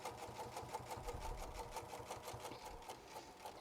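Sewing machine stitching a fabric purse, its rapid steady needle chatter running continuously at close range with a low motor hum underneath, ending in a few short back stitches.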